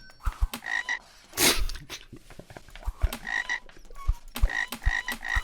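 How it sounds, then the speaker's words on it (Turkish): Frog croaking in a game, a series of short, bright, pulsing croaks repeating in bursts, with a brief burst of noise near the start and no speech. "aa kurbağa mı? kurbağa aldım"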